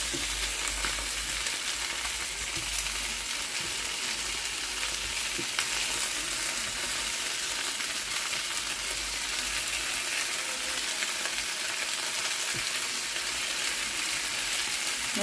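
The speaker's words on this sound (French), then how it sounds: "mon poulet, il est en train de cuire" Chicken drumsticks, seasoned with salt and pepper, fry steadily in a pan with a constant close hiss and sizzle and no talking.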